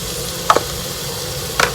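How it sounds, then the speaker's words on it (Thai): Thai curry paste fries in hot oil for a pumpkin curry, giving a steady close sizzle broken by two brief scraping stirs of a utensil in the pan. "เอาน้ำมันลงจากช้อนนึงแล้วก็ผัดพริกแกง"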